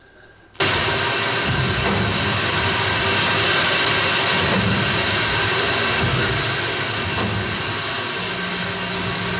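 A loud, steady mechanical roar of heavy engine room machinery aboard the Liberty ship SS Jeremiah O'Brien starts abruptly and drones on without pause, with a dense low rumble.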